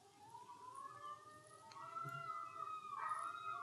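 A dog howls in long, wavering rising and falling tones, moderately distant and faint over quiet room noise.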